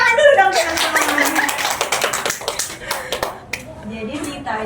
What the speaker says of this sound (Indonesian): ayo kasih tepuk tangan dulu dong teman-teman